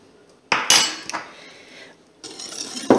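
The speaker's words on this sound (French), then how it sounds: "On remue." Spoon clinking and scraping in a bowl while vanilla sugar is stirred into a speculoos tiramisu mixture, a few sharp clinks then softer scraping strokes, close and clear without speech.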